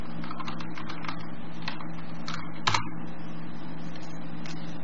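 Computer keyboard typing on Windows 10: a run of close, light key clicks over a steady low hum, with one louder keystroke near the middle.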